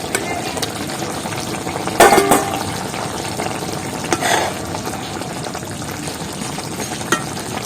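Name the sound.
Bombay duck fish cooking with hog plum added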